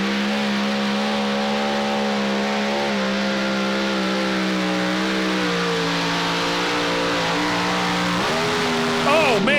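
A super modified pulling tractor roars at full throttle during a tractor pull, its loud sustained engine drone wavering in pitch before a driveline failure and an abrupt shift near the end.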